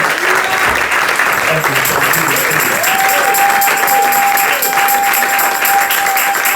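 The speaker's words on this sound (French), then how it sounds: "nous allons ensemble acclamer la parole de Dieu" Church congregation applauding together, sustained loud dense clapping from a large crowd, with a voice and musical tones over it.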